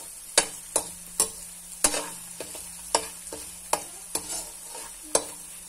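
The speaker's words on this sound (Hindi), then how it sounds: "तकरीबन हाफ कप जो है वो ऑयल डालेंगे और इसके अंदर अदरक लहसुन पेस्ट का जो है 1 चम्मच भरकर डालकर इसको फ्राई कर लेंगे।" Ginger garlic paste fries in about half a cup of oil in a pan, with a steady soft sizzle under repeated sharp clicks of a spoon stirring and scraping against the pan, close and fairly quiet.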